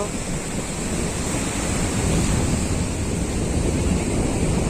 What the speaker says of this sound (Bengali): তোমাদের একদম সমুদ্র পাশ থেকে একদম দেখাও জলোচ্ছ্বাস